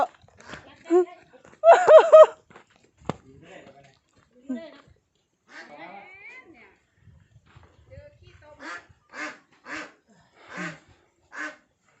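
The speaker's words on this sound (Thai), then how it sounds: "ไล่จับเป็ด" Ducks on a mixed-farming duck farm quack in short, loud, repeated bursts while being chased and caught, with people talking in between.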